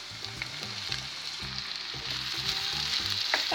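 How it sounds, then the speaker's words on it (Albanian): Diced eggplant and onion sauté and sizzle in a hot pan, a steady close frying hiss with a few soft stirring scrapes and no talking. "Bashkojmë me qepën dhe e kaurdisim"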